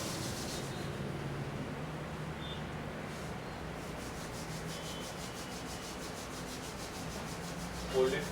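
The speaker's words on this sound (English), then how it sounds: "Just rub the palm." Palms rubbed steadily against each other during a yoga eye exercise, a continuous soft, close friction hiss lasting several seconds at an even level with no talking.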